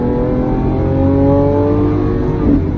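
A Lamborghini Aventador SVJ's V12 engine accelerating hard, a loud close roar whose pitch climbs steadily through the rev range, with a brief shift near the end and no talk.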